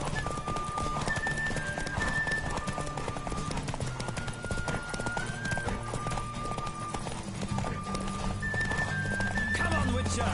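Horse galloping in The Witcher 3: Wild Hunt video game, with a steady, rapid clip-clop of hooves running throughout, close and loud, under tonal game sounds and what seems like a voice.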